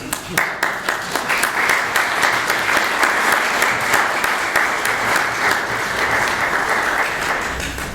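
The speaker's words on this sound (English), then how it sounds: "you can applaud if you want" Strong, sustained applause fills a room at a candidates forum in St. Augustine, Florida, many hands clapping together at an even level from start to finish.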